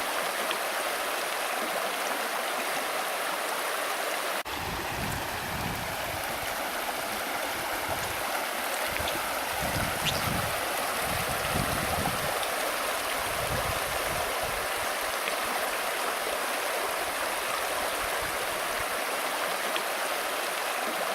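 The Gradac river rushing through its gorge, a steady broadband roar of flowing water that stays even and close for the whole stretch, with no voices.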